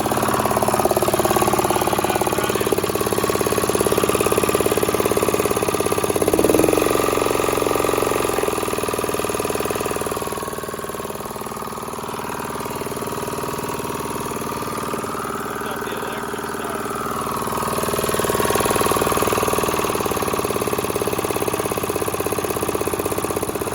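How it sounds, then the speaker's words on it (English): The small pull-start motor of an old hydraulic roller runs steadily near the listener, its rough mechanical drone rising and dipping in speed over a long stretch with no talking. "So update, motor's running pretty good."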